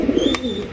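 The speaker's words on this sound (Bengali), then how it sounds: "বাঘা হাই ফ্লাইং গিরিবাজ কবুতর দেখতেই পাচ্ছেন মাশাআল্লাহ, বিগ সাইজের" A big Bagha Giribaz high-flying pigeon gives a short, close, throaty coo, a single brief call with nothing else around it.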